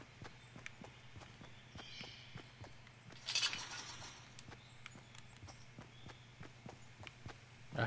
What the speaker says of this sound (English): I heard some footsteps, I think.